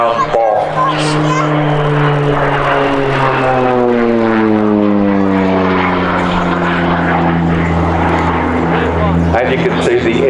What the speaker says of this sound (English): And you can see the aircraft is highly manoeuvrable.